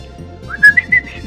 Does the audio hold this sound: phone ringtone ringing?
no